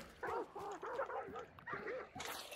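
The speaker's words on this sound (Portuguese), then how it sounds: "Ah, os cachorros eram aqui, ó," Dogs in the video game Hunt: Showdown bark and yip in short, clustered bursts, moderately loud and fairly close, with a brief whimpering quality in some calls and no speech over them.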